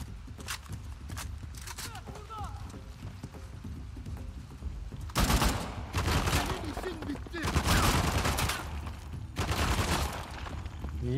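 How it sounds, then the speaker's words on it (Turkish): Rapid bursts of gunfire in the video game Uncharted: The Lost Legacy crackle in loud clusters after a quieter stretch where someone talks over softer game sounds and footsteps. "Sıkıyorum kardeş."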